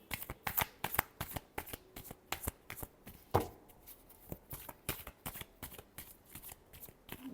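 Tarot cards being shuffled by hand, a rapid run of crisp riffling slaps and flicks with one heavier thump midway, close and fairly quiet with no speech.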